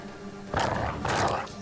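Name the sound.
dog in a video game being killed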